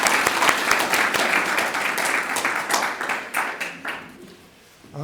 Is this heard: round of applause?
yes